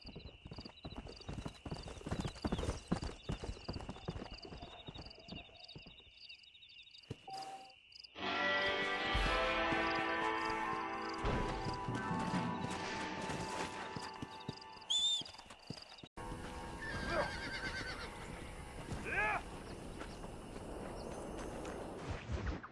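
A stallion's hooves clip-clop in Red Dead Redemption, with steady, close walking steps at first, then denser hoofbeats and a horse's whinny over a busier ranch soundscape.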